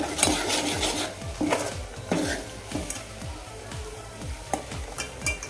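Spiced masala being stirred and sautéed in oil for a Maharashtrian golyachi aamti, with a steady soft sizzle under repeated scraping strokes of a spoon against the pan, close and moderately loud, with no talking.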